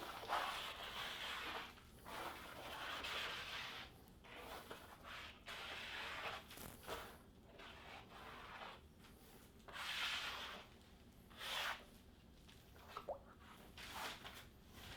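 A scraper drags deep-pour epoxy resin off the sides of a live-edge wood slab, giving faint, repeated wet rubbing and scraping strokes with short pauses between them.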